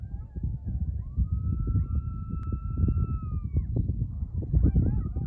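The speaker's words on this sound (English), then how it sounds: "We got the coyotes howling out here." Coyotes howling outdoors at night: long, wavering, siren-like howls that rise and fall over several seconds, followed by shorter rising yips, all carried over a steady rumbling background.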